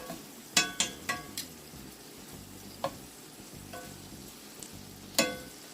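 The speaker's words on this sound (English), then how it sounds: "you want to cook the shrimp for about a minute and a half to 2 minutes on each side" Shrimp frying in a pan, a steady low sizzle broken by a few sharp clinks and taps of a utensil against the pan as the pieces are flipped.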